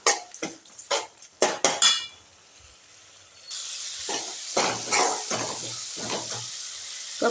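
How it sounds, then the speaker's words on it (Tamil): A pan of tomato masala with turmeric, sambar powder and chili powder is sautéed for a brinjal tamarind kuzhambu: a few metal spoon clanks against the pan, then a steady close sizzling hiss broken by scraping stirring strokes. "இது 1 நிமிஷம் வதக்கி வச்சுக்கலாங்க."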